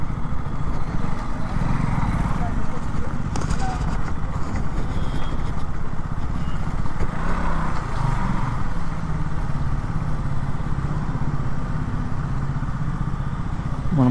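A KTM Duke 200 motorcycle running nearby, a steady mid-pitched engine drone that holds throughout with little change in revs, loud and continuous and without any voices over it.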